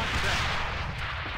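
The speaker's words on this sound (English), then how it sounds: "Nades are going over." Grenades burst during a competitive esports match of the shooter game AVA, giving a loud, dense wash of blasts and rumble that fills the moment.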